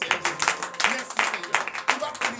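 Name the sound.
congregation applause and clapping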